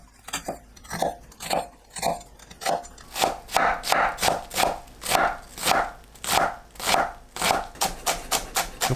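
Onion being finely minced with a knife on a cutting board for braised rice cakes, a rapid, steady run of close, crisp chops, evenly rhythmic and loud throughout.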